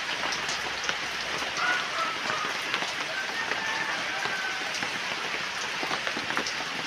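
Heavy rain pours steadily on a tarp-covered rural farm plot, a dense, even hiss with occasional louder drips throughout, and a voice talks faintly beneath it.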